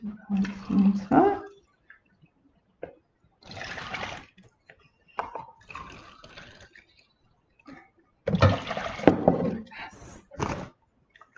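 Water poured into a cup for homemade bubble mixture with bubble bath, several bursts of splashing pouring separated by quiet gaps, close and moderately loud, with a person speaking at times.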